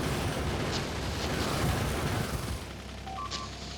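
Gun turrets in the video game Factorio fire at attacking enemies, a dense, continuous rumbling barrage of overlapping shots with a few sharp high blips near the end, steady and loud throughout.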